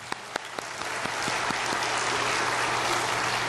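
A church congregation breaks into applause, starting with a few scattered sharp claps that quickly build into a sustained, fairly distant wash of clapping.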